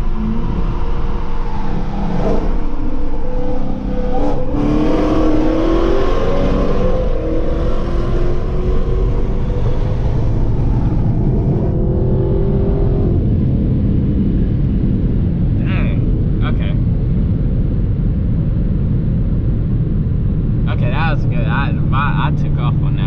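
Dodge Hellcat Redeye and Hellcat Charger launching in a street drag race, engines roaring loud and steady with a rising rumble through most of the stretch, tires spinning at the start, with voices talking over the noise.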